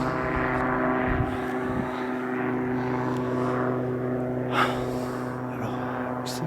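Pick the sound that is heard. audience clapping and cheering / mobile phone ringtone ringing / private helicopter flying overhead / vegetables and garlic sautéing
private helicopter flying overhead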